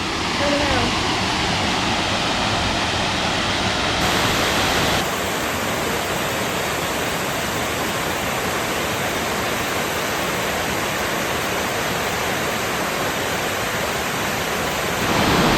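Cougar Falls in Mount Rainier National Park pours steadily on an early September morning, a loud, continuous broadband roar of falling water that holds level throughout, with no voices over it.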